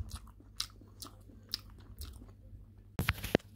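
A bite of rice with chicken, sauce, onions, vegetables and tomato is chewed close up in quiet, soft wet crunches at an irregular rhythm, ending in a few louder bites.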